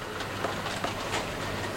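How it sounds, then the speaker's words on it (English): Small Kato N gauge model steam train running around a micro layout, a soft steady rolling whir with faint rhythmic clicks of tiny wheels, close and quiet with no voices. "Very clever, these little Kato steam train sets."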